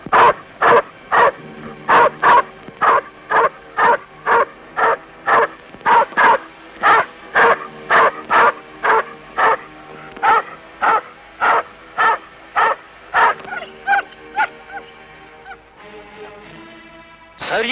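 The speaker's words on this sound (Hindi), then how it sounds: "सर, ये कुत्ते हमेशा आप ही को देखकर क्यों भौंकते हैं?" Dogs bark in a loud, rhythmic series of about two dozen evenly spaced barks, close and prominent, tapering into scattered yelps near the end, in a 1979 horror thriller film.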